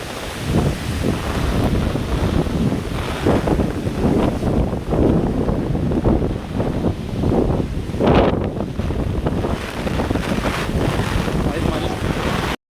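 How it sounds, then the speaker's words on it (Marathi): Strong, gusting wind roars across the microphone during a storm near trees in Dahanu, a loud, continuous buffeting that swells and dips throughout. "वारा बघा, वारा किती वारा आहे"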